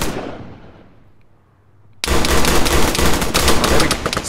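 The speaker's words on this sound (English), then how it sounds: "Lots of exchange of gunfire there." Rapid bursts of gunfire in the video game Arma 3 erupt after a fading blast, continuing loud and dense with overlapping rattling shots.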